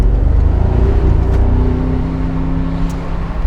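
A 2023 Mercedes SL 63 AMG 4Matic+ with its 4.0-litre 585 hp V8 pulls hard under acceleration, a steady loud engine drone with rising harmonic tones throughout and no voices.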